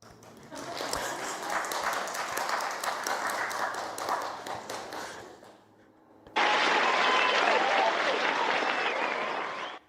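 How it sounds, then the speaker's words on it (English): An audience at a Buddhist Dharma talk breaks into applause, sustained dense clapping that dips briefly midway then surges back louder and fuller before ending. "Applause."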